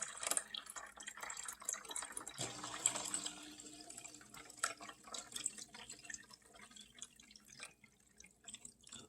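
Water pours and trickles into an Aerogarden reservoir, a faint, steady stream with small drips and splashes throughout, recorded up close and fairly quiet.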